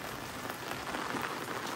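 Rain falls in a dense, even patter on surfaces, a steady moderate hiss of drops with no voices.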